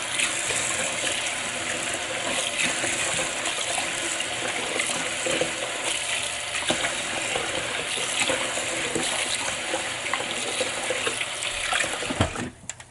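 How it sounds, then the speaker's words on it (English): Rice being washed by hand in water: steady running and splashing water with soft sloshing and swishing, continuous and close, with no talking. "Alright, so now we're washing our rice."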